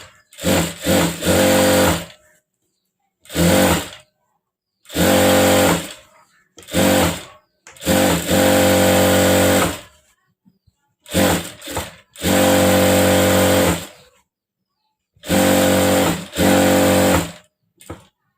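A sewing machine stitches along the edge of a bridal pattu saree blouse back neck piece. It whirs loudly and close in repeated bursts of one to two seconds, stopping and starting between runs.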